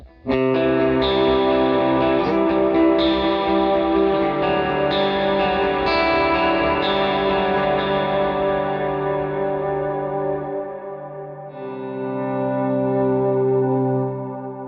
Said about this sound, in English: If you throw up the reverb just a little bit more, you can get a wider, more deep